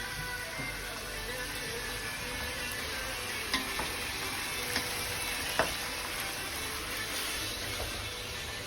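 Food frying in a pan in a student kitchen in China, a constant soft sizzle with a few faint clicks and clinks, fairly quiet and with no voices.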